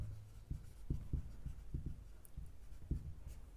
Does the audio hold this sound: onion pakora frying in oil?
no